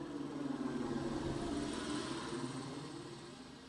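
A helicopter runs as a steady, faint, droning engine and rotor hum that holds evenly for a few seconds.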